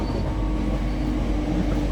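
Northern Trains class 323 electric multiple unit heard from inside while running, a steady loud low rumble and rolling noise with no breaks or talk.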